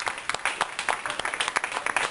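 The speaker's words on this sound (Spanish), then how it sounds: "Denle un aplauso al Señor" A church congregation claps in praise during a Sunday sermon, a brisk, uneven patter of many hands in a hall, moderately loud and fairly close, with no talk over it.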